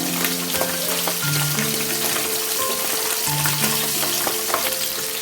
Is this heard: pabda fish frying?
yes